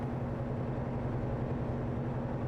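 A truck engine in American Truck Simulator, hauling an oversize load, drones with a low, steady hum that holds even throughout, with no voices.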